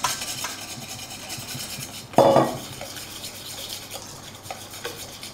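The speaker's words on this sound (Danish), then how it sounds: "Så har jeg 2 dl mælk her, som jeg så rører ud i" Milk being stirred into æbleskiver batter in a bowl, a steady soft scraping of the utensil with one louder knock near the middle, close by with no one talking.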